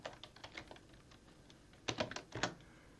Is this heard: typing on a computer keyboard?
yes